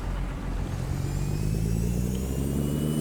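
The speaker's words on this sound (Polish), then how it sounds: "No tego mi brakowało, mruczenia silnika Caterpillar." A Caterpillar diesel engine in a classic truck in American Truck Simulator, a steady low rumbling drone with a slowly rising pitch as it pulls away, continuous and unaccompanied by talk.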